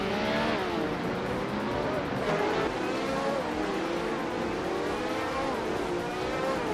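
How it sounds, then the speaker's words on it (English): Race cars including a Surtees TS19 racing, engines droning with rising and falling pitch sweeps as cars pass, loud and continuous with faint tire squeal. "Dale Earnhardt's car is a Surtees TS19, known for its unique design and handling"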